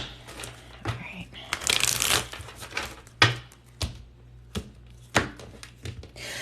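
Reading cards being shuffled by hand at close range, a series of crisp riffling bursts and sharp card slaps, with a voice speaking between the shuffles.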